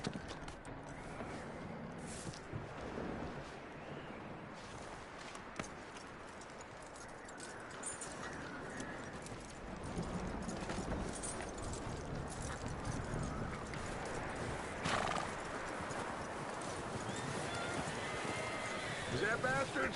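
Horse hooves clip-clop and a horse neighs in a video game, mixed under continuous game noise and people talking throughout.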